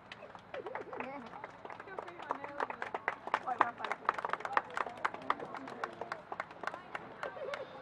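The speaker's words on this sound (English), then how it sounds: "give a big round of applause for KCHS senior, Mr. Justin Davis" Audience applause at a high school senior night for a senior honoree, a crowd's clapping mixed with cheering and an announcer's voice carrying over it, lively and continuous throughout.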